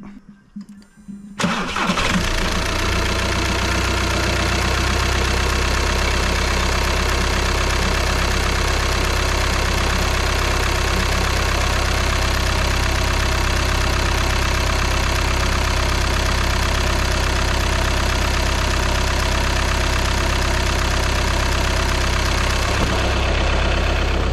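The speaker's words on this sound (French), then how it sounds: "Je vais la laisser tourner un petit peu au ralenti" An Audi engine, just fitted with a new timing belt, cranks and catches, then settles into a loud, steady close idle with an even low rumble that continues unchanged to the end, with no talking.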